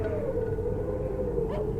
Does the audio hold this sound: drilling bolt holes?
no